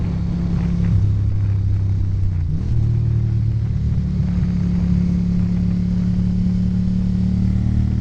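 A Ducati 900SS motorcycle engine heard while riding, a steady close drone with a brief dip and shift in pitch partway through, over constant wind rush, with no talking.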